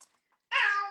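A pet cat named Fat Boy gives a single clear, drawn-out meow close by, rising then fading over under half a second, after a moment of near silence with a few faint small noises.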